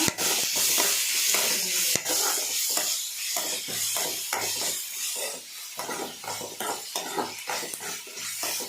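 A utensil scrapes and clatters rhythmically in a pan, stirring onion, tomato and curry leaves for a brinjal thokku, with a soft sizzle beneath the repeated strokes.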